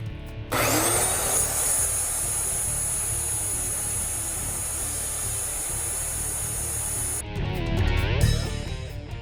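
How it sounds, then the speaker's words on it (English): A makeshift sander smooths a small piece to shape, giving a steady, loud, high-pitched motor whine for about eight seconds that then winds down with a brief rougher grinding. "Now I'll take this and I'll smooth it out to shape on my makeshift sander here."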